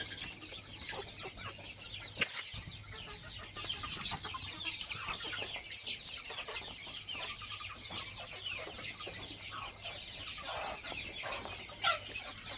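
A flock of chickens clucking continuously while feeding, busy overlapping calls at moderate distance with a few louder clucks standing out.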